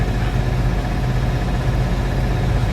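A farm tractor engine idles steadily nearby, a continuous low rumble with no speech.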